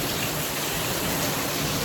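Steady rain falls during the monsoon, a dense, even hiss of drops on surfaces that fills the whole moment without pause, fairly loud and close, with no voices.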